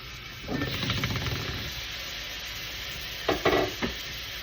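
Steady sizzling of garlic frying in a pan, with a few scraping stirs of a utensil against the pan, close and moderately loud.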